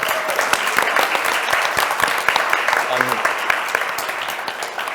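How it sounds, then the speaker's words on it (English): A breakfast briefing audience at BMA House keeps clapping in sustained applause, a dense crackle of many hands at even loudness, with a short spoken phrase heard under it near the end. "And keep it going for a massive round of applause for BMA House for supporting us."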